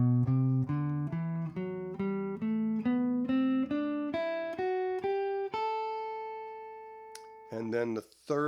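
Clean guitar notes step upward one at a time in an even rhythm, a rising major scale starting on its second note and ending on a long held note, followed by a brief voice.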